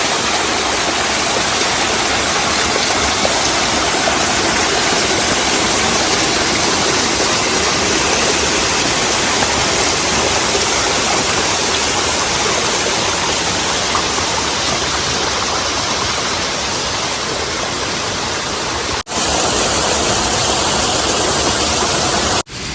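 Close, continuous rush of natural water pouring down Antharaganga Waterfalls near Hyderabad, loud and unbroken for the whole stretch, with a brief handling knock near the end and no talking.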